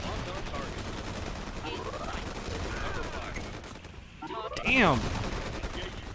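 Units in the real-time strategy game Forged Battalion fire on enemy turrets in steady, fairly faint rapid bursts across a busy battle mix, with a sharper whooshing shot near the end and a voice speaking briefly.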